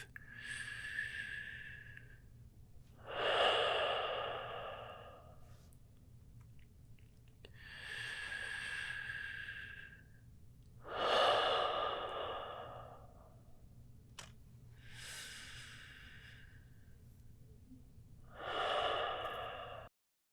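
A person breathes through a yoga flow, drawing slow, audible breaths with long exhales in an even rhythm of about five cycles over a faint low hum, close to the microphone and with no speech.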